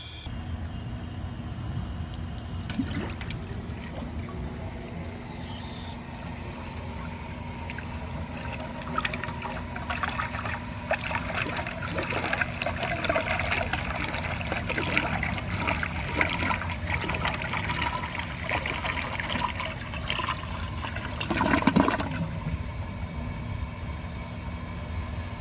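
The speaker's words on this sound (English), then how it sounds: "I'm going to purposely clog it, and then I'm going to flush it." A 1991 Kohler San Raphael toilet flushes with a steady, rushing wash of water that runs for about 25 seconds and swells briefly near the end, with no one talking.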